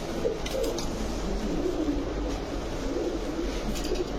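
Pigeons of racer, Budapest, Damascene and Lahori breeds coo in a steady, overlapping murmur, with a constant low background rumble and no voices.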